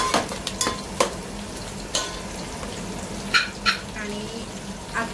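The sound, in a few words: green and red chillies and peanuts sautéing in oil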